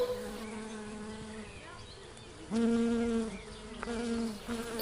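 Flies buzzing close by, a steady droning hum that swells louder midway, with no voices.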